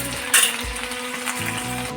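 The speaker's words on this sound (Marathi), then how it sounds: "सुरुवातीला मी थोडी मोहरी टाकते, लसूण जिऱ्याची पेस्ट" Mustard seeds and a garlic-cumin paste drop into hot oil, setting off a bright hiss and crackle that settles into a steady sizzle, close by with no talk.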